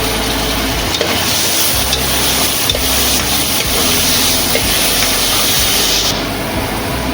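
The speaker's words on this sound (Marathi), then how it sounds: "छान परतून घेऊया आपण तेलावरती" Coconut masala paste sautés loudly in hot oil in a pan for a bottle gourd and chana dal dish, a dense continuous sizzle and hiss that holds steady throughout, heard close up with no voices.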